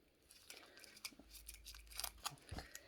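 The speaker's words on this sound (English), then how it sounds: "I'm going to take my piece of tape" A piece of tape being torn and handled while labeling an insulin syringe for an IV push, giving several short quiet rips and crinkles close by, with no talking.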